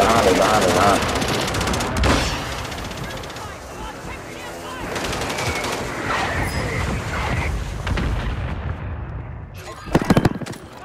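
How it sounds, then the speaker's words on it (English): Gunfire in a multiplayer shooter game, including a sniper firing from behind, heard as bursts of sharp shots and loud impacts over continuous battle noise, with a close, loud cluster of shots near the end. "Somebody's sniping behind."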